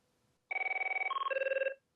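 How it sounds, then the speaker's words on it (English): Merlin ringtone in MP3 format for a Cisco IP phone: a single electronic warbling ring burst of rapid pulses, stepping through a few tones over about a second, clean and close against silence. "Found a zip file of the Merlin ringtones in MP3 format."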